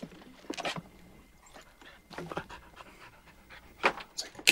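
A dog pants in short bursts during a movie scene set on a boat, quiet breathy huffs separated by pauses and heard close.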